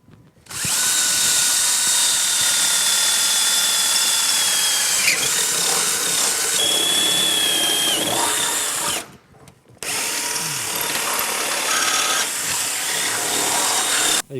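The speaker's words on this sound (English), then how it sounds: "I'll just drill out these chain case holes here." A power drill bores holes in a Ski-Doo Rev Mod 700 snowmobile chaincase. It whines loudly and steadily in a long run, then briefly stops before starting again.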